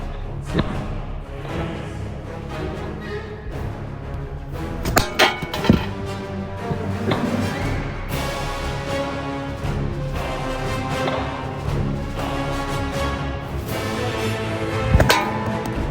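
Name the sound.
sling shots hitting an ancient armor helmet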